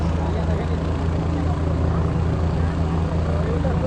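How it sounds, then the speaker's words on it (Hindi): Helicopter lifting off after a political rally in Madhubani, a steady loud rotor and engine drone with low pulsing beats, constant throughout with crowd noise blended underneath. "उनका हेलीकॉप्टर आसमान छूने लगा"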